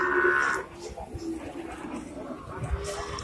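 A large Limousin bull fed on straw lows once, loud and close, at the start, followed by background murmur and shuffling at a crowded livestock market in Kebumen.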